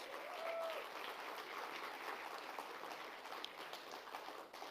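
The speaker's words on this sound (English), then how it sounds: "Give them a round of applause" Applause from a convention audience in a live music hall, a steady soft wash of many hands clapping at a distance, quiet and continuous throughout.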